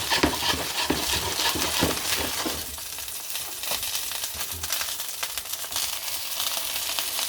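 Fish browning in butter in a frying pan with a steady crackling sizzle, louder and busier at first then settling into a softer continuous fry, no voices.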